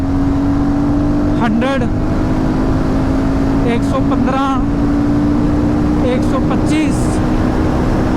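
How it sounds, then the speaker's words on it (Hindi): A Royal Enfield Guerrilla 450 motorcycle pulls in fifth gear in eco mode from about 70 km/h: a steady, continuous engine drone buried under loud, constant wind rush, while a rider speaks briefly at intervals. "5th गियर 70 से हमने पुल किया बाइक को"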